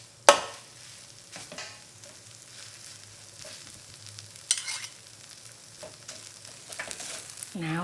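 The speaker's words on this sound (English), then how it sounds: "I'm going to take it out of this bowl of rice and then stir fry" Spicy Korean chicken dakgalbi with rice being stir fried in a pan, a steady soft sizzle under repeated scraping and stirring clatter of the utensil, close and fairly quiet.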